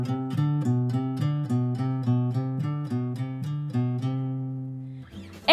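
Fingerstyle guitar bassline notes plucked with the thumb, a steady run of clear, evenly spaced low notes with ringing harmonics, close and alone, ending in a brief scrape.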